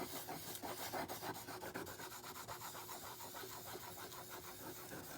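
A plane iron rubbed on a sharpening stone, a faint, steady rasping scrape repeating in quick back-and-forth strokes with no one speaking.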